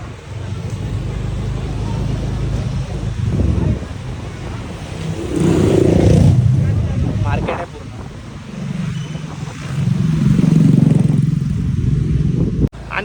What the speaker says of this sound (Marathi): मी बाईक चालवतोय